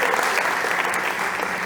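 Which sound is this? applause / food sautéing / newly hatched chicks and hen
applause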